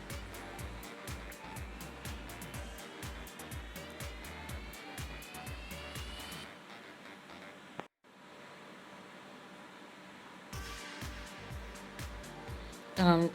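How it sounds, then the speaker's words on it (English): A sewing machine stitches fabric for a clutch bag, giving a fast, even mechanical chatter. The sound is faint and steady, stops briefly partway through, then resumes. "And now I'm gonna be stitching that together straight down."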